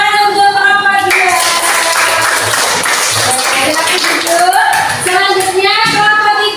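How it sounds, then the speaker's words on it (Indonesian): Applause for a group in a classroom: a short burst of clapping from several people, mixed with children's chatter and a voice talking over it, lasting a few seconds. "Tepuk tangan untuk kelompok 2"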